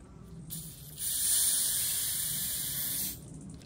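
Refrigerant hisses through car A/C manifold gauge lines as the valve opens, a steady loud broadband hiss rising after a quieter start, holding for about two seconds, then dropping off.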